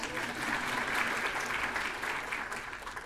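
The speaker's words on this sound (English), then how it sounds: "Clap for Danny, please." An audience at a university college of education scholarship awards ceremony claps steadily at moderate volume, a continuous wash of applause that tapers slightly near the end.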